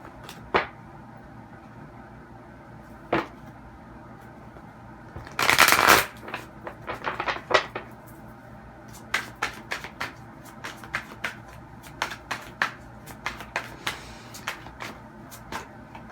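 A deck of tarot cards being shuffled, with one loud riffling burst in the middle and scattered sharp card taps and flicks before and after, close and clear with no talking.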